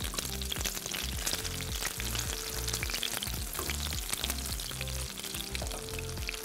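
Top half of a burger bun toasting in a hot frying pan, a steady, continuous sizzle and crackle at close range with no talking.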